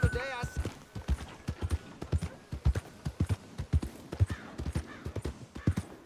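Horse hooves clip-clop at a steady trotting rhythm in Red Dead Redemption 2, close and fairly loud, with a brief whinny near the start and someone talking over the hoofbeats.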